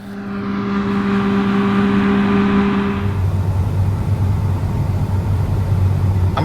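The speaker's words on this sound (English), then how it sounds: "I'm up in the cab of the John Deere X9 1100 combine. It's running here at about 4 miles per hour" A John Deere X9 1100 tracked combine harvests wheat at about 4 miles per hour, a loud, steady machine drone with a high whine that drops to a deeper hum partway through, with no talk.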